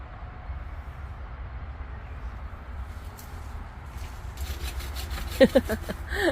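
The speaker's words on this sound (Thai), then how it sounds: "ใส่เลื่อย" After a quiet stretch, a hand saw begins rasping through a cherry tree branch in short, rhythmic strokes, close and moderately loud.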